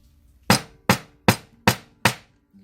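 Five evenly spaced sharp strikes of a nylon-head hammer on wire resting on an anvil, close and crisp, each blow ringing briefly before the next.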